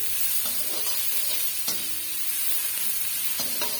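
Onions sautéing in a pan for a small-leaf greens stir-fry give a steady close sizzle, with a few brief utensil scrapes and clinks rising above it now and then.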